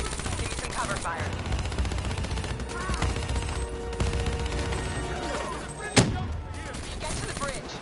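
Video game gunfire rattles continuously in rapid bursts with scattered impacts and one sharp louder blast, dense combat noise with voices talking underneath.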